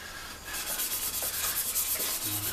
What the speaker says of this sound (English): I'm just doing a little bit of sanding with the grain